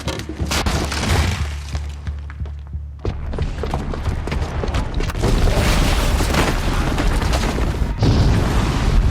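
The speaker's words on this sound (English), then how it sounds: "the booby trap on the bomb downstairs is gonna get set off" Bomb explosion from a booby trap in Horizon Zero Dawn: a heavy, loud boom and low rumble, then crashing, debris-like impacts and a dense roar that continues to the end.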